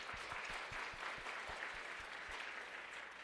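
A church congregation at a Christmas worship service applauds warmly in a sustained, dense wash of clapping, fairly distant, with soft regular low thumps running beneath it and no clear talk.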